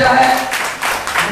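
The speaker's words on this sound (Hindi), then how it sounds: "चलिए जोरदार ताली हो जाए।" Applause in a Hindi church Sunday service, loud crowd clapping in broken waves across the short moment, with a faint voice briefly audible underneath.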